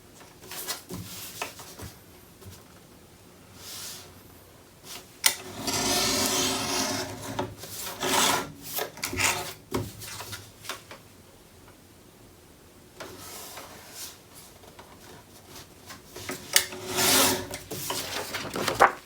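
Scissors or a trimmer cut a paper mat down to size for a holiday scrapbooking layout, giving close, rasping, scratchy strokes in several separate bursts with quiet pauses between them.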